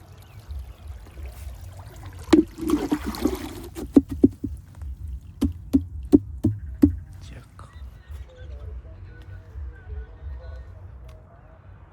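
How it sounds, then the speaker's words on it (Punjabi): Irrigation water from a motor pump pours into a field channel for a wheat crop, a steady low rushing flow under repeated sharp splashes and knocks, with voices talking nearby at times. "ਇੱਥੋਂ ਦੀ ਪਾਣੀ ਪੈਂਦਾ ਹੈ ਵਾਣ ਦੇ ਵਿੱਚ"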